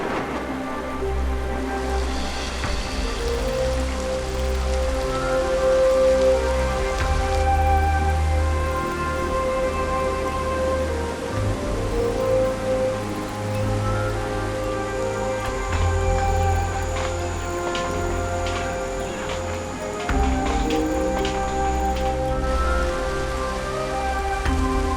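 Tropical rain falls steadily on a flooded rainforest, a dense, continuous hiss of drops on water that lasts throughout, mixed with a sustained musical score.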